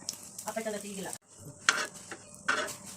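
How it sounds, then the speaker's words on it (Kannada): Omelette frying in oil on a hot tawa, with soft sizzling and scraping clinks of a utensil against the pan in short bursts, close and fairly quiet, while someone speaks over parts of it. "ತವ ಕಾದಿದೆ ಸ್ವಲ್ಪ ಎಣ್ಣೆ ಹಾಕ್ತಾಯಿದ್ದೀನಿ"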